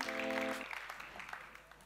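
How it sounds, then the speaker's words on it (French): A short burst of applause with a brief tonal note at the start, clapping fading quickly, fairly faint and distant. "On l'applaudit bien"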